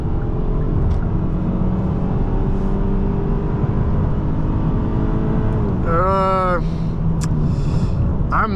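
A 2024 Hyundai Sonata SEL accelerates hard with a steady, loud engine drone and road noise heard from inside the cabin. A short chirping electronic tone sounds near the end.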